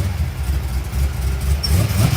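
A small-tire drag car's engine held at a raised idle, a loud, rough low rumble that stays steady and close throughout with slight surges.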